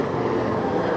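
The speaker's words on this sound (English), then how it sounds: "as soon as the helicopter passes" A helicopter passes overhead during an outdoor groundbreaking event in Brooklyn, its engine and rotor roar steady and loud, filling the whole moment with no voices heard.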